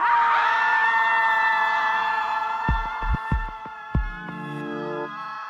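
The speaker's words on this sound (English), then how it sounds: "here are some people screaming at a river" A group of people scream together at a river outdoors, a long loud sustained shriek of many voices that fades, followed by scattered thumps and a lingering shout.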